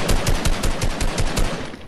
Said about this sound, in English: Are you trying to snipe me, boy?